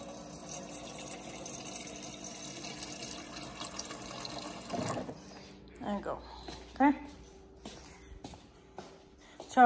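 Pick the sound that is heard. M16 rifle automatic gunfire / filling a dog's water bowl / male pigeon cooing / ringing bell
filling a dog's water bowl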